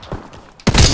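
A single loud sniper rifle shot in Call of Duty: WWII, a Snipers Only 1v1 match, bursts in sharply after a quiet stretch and sustains a heavy, broadband boom to the end.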